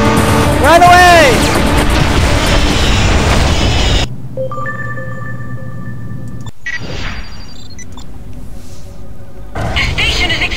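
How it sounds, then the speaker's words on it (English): A space station explodes in the space-combat game Freelancer: a loud, deep rumbling blast with a rising whine over it, then a sudden cut to a quieter stretch of tonal hums and electronic effects, ending in another burst of noise. "The station is exploding!"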